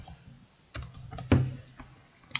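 Several sharp keystrokes on a computer keyboard, spaced irregularly with quiet gaps between them, fairly close and moderately loud, no one speaking.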